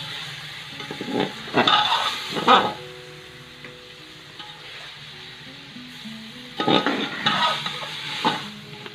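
Chicken is being mixed with chili sauce in a cooking pan, with two bursts of scraping and stirring over a low sizzle and a quieter pause between them.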